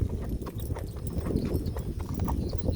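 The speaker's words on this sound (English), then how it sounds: "I don't want this horse to get upset over there." Horse hooves clip-clop close by in an outdoor setting, a quick irregular patter of many steps, fairly loud and alone without talk.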